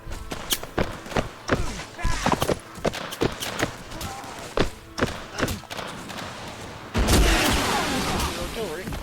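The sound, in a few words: artillery fire in Mount & Blade Warband Civil War mod video game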